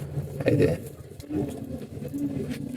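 Pigeons in a loft coo softly in low, throaty bursts that rise and fall over a murky background, with a person talking nearby.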